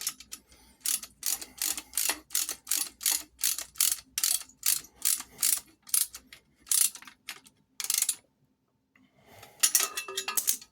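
A ratchet wrench tightens a bolt on a metal greenhouse conduit bracket, with rapid clicking strokes repeating in a steady rhythm, close and crisp, then a pause and a final short burst of clicks.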